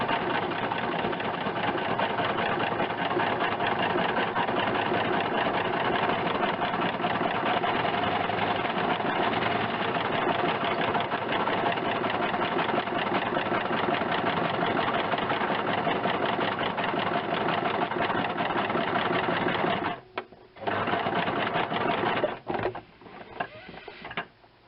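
A standard sewing machine stitching freehand on fabric, a steady close rapid whirring drone that runs continuously and then stops and restarts briefly near the end.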